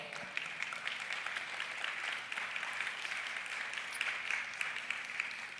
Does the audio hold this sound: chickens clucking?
no